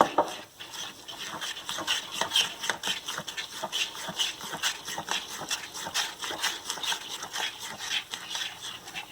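A spoon scrapes and swirls steadily around a bowl of rawa dhokla batter with Eno added, a continuous close wet stirring with soft rhythmic clinks against the sides.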